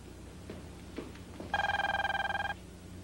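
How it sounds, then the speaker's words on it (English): A telephone bell rings once in a single loud, buzzing burst of rapid trills, alone after a few soft knocks and thumps. "Answer the phone, George."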